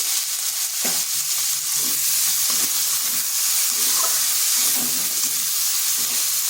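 A medium onion, cut into small pieces, frying in a pan with two slit green chillies, giving a steady close sizzle and hiss throughout with a few soft stirring knocks.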